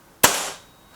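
A single sharp shot from a Rexime Myth .177 air rifle fired at a target card, a crisp close crack with a short fading tail, heard alone.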